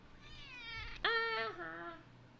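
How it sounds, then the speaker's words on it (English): A cat meows one long drawn-out call, loud and near, rising sharply partway through and trailing off, over a quiet room background. "That's your cue to say meow."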